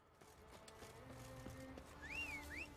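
A horse in the video game The Witcher 3 Wild Hunt: a few soft hoof clops followed by a rising, wavering whinny near the end, quiet over low in-game ambience.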